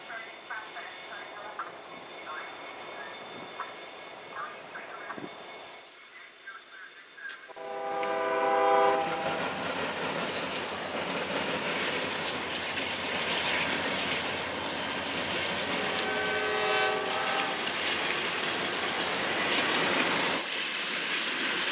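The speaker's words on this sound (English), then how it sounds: "that's a yard switcher" A yard switcher locomotive moves along the rail at a busy junction in Fostoria, Ohio. A loud, sustained engine rumble and rolling rail noise build after a quiet opening, with a brief horn blast near the start.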